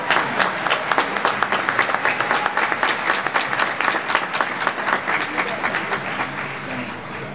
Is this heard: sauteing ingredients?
no